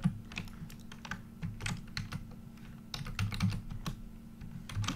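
Rapid, uneven clatter of keys on a computer keyboard, close and fairly loud, with quicker bursts and short pauses, played alone with no voices.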